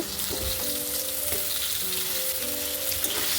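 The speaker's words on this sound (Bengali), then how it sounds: "এবার আলুগুলোকে আমি একটু ভাজা ভাজা করে নিব" Potatoes fry steadily in a pan tempered with black cumin seeds for a fish curry, giving a continuous close sizzle with faint stirring and a steady background hum throughout.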